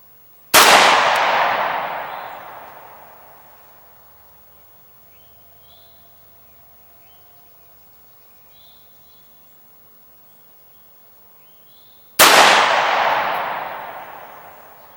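Two loud, sharp 6.5mm Grendel rifle shots from a match rifle firing 140gr Barnes bullets, close by, about twelve seconds apart, each followed by a long ringing decay into a quiet outdoor range with faint birds between.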